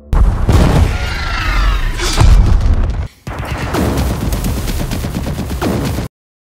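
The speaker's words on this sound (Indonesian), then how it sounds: "serangan terjadi dan beberapa ranjau meledak" Landmines explode during an attack in a film sound effect, heard as loud, dense booms and crackling blasts in two bursts separated by a brief gap before the sound cuts off.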